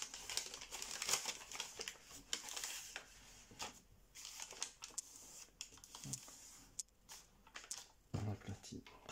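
Sheets of origami paper crinkle and rustle as they are creased and pressed flat while folding a bald eagle model, with soft irregular crackles and taps under a man's speech throughout.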